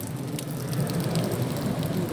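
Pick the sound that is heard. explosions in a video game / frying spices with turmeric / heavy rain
heavy rain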